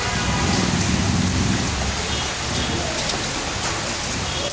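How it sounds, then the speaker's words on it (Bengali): Dense, even hailstorm roar in Dhaka: countless hailstones and rain pelting surfaces in a continuous, loud hiss with no voices. "শিলাবৃষ্টি হচ্ছে, শিলাবৃষ্টি, শিলাবৃষ্টি"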